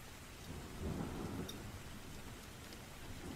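Low rumbling thunder rolls through a storm with steady rain falling on surfaces, a swelling roll near the one-second mark before easing into a continuous distant grumble and hiss.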